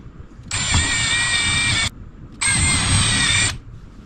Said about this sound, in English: then we'll drill two very small holes through the back top side of the cooler